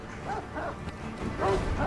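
Dogs barking in the action game Sekiro: Shadows Die Twice, a few yelps and barks at moderate distance over game ambience, with a voice talking faintly at times.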